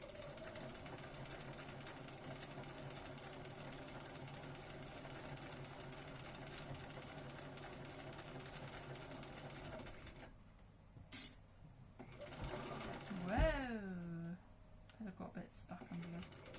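A sewing machine stitching a Regency dress, a steady mechanical whir running for about ten seconds before stopping, followed by brief clicks and a voice.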